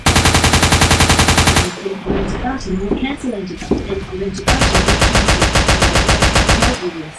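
Machine gun fire in a shooter video game, loud rapid bursts of repeated shots, one long burst, a pause with mixed game sounds, then another sustained burst.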